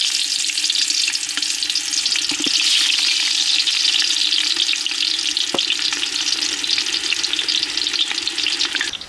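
Onions sizzle loudly and steadily in hot oil during village-style Karnataka mutton biryani cooking, with a few light stirring clicks in the constant hiss.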